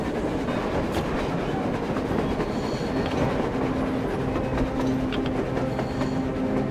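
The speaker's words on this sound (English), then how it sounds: "A train! A damn train on the surface!" A train rolls across the surface in the video game Metro Exodus. Its steady rumble carries a rhythmic clickety-clack and faint metallic squeals throughout, with no voices.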